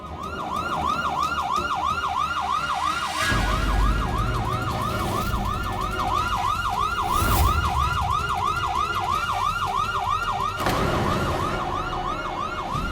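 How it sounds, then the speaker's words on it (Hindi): A police siren wails in a fast, repeating rising-and-falling pattern, loud and continuous, over low rumbling traffic and background noise, with no talking. "सच में पुलिस का सायरन बज रहा है"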